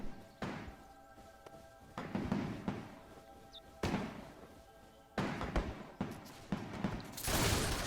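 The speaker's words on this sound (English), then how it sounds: "I can get some of the troops firing over here." Musket volleys from troops in the video game Between Empires, several sharp broadband bursts crackling out at intervals, each fading with a rumbling tail, mid-distance and fairly loud.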